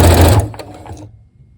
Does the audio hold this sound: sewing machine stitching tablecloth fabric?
yes